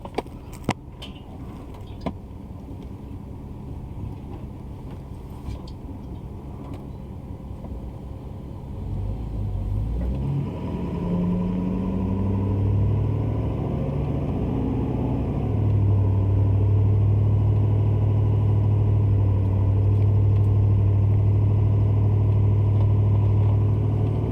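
A pickup truck towing a dump trailer on the road to Olinda Alpha Landfill rumbles low and steady. The engine grows louder and deeper partway through as the rig climbs.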